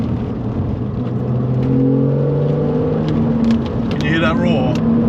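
A Porsche 996 engine with a carbon air intake revs loudly from inside the cabin, its pitch rising and falling under a steady roar, with a voice briefly heard near the end.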